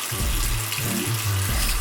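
A faucet streams water onto a beauty blender sponge, a near, steady rushing splash that fills the whole moment without pause.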